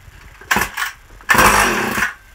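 A new 850 chainsaw catches on the first pull: a short pop of sound, then the engine bursts into a loud, close run for under a second before cutting back.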